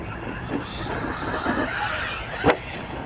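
A Hosim X-08 monster-truck RC car held at full throttle, its steady electric motor whine running continuously with a brief louder burst near the end, heard alone without talk.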